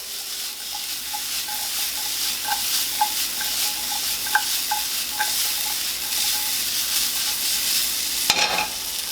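Vegetables stir-frying in a lightly oiled hot pan give a steady, close sizzle dotted with small crackles and pops, with a brief clatter near the end.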